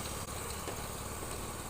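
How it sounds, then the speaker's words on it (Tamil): A Honda Activa scooter engine idles just after a bore and piston fitting, giving a steady, continuous close-up drone with no pauses and no voices. "என்ஜின் ஸ்டார்ட் பண்ணியாச்சு. ஐட்லிங் ஆடுது."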